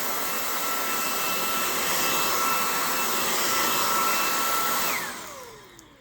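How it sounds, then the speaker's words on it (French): A Redroad V17 cordless vacuum cleaner runs with a steady, loud, high-pitched whine, then winds down and fades as it is switched off near the end. "les informations concernant cet aspirateur, le Red Road V17"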